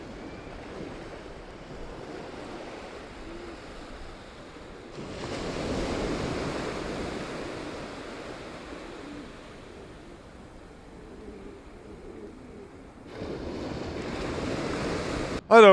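Ocean waves washing onto the shore, a broad rushing surf that swells and recedes in soft surges, heard alone with some wind buffeting the microphone and a sharp bump at the very end.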